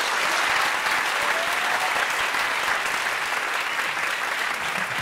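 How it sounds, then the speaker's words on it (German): An audience at a Marburg evening of readings breaks into sustained applause, loud and close, with many hands clapping in a steady roar that barely varies from start to finish. "Ein Applaus."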